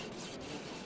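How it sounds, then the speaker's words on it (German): A knife blade is pulled through V-Sharp Classic 2 sharpening stones, making one short, faint, raspy rubbing scrape with no voices. "Und auch zum Abziehen wird die Klinge mehrmals durchgezogen."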